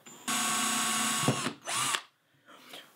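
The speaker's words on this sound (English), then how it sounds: "I'm gonna drill a couple of holes right above here" A power drill bores holes into the plastic of an exterior bell siphon, the motor whining loud and steady for over a second, then a brief catch and a second short burst, followed by lighter handling clatter.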